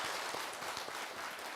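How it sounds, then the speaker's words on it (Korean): Audience applause welcoming a speaker to a Korean Buddhist lecture broadcast, soft and fairly distant steady clapping from a crowd, faint and even throughout, with no talk over it. "박수로 맞으세요"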